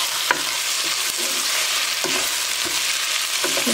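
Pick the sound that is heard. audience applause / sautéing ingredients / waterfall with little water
sautéing ingredients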